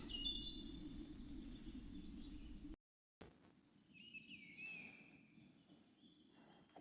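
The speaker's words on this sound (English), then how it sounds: "Listen out to all the birds." Birds sing in a spring woodland, with thin high calls drifting at a distance over a steady low outdoor rumble. There is a brief dropout partway through, after which the song carries on, sparse and faint.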